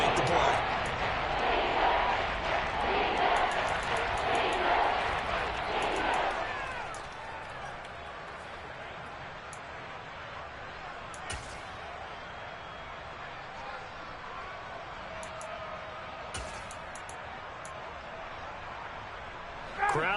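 Crowd noise from a stadium in a Madden football video game: a loud, dense roar of cheering fills the first several seconds, then drops to a quieter, steady murmur with brief spikes, while a commentator talks over it.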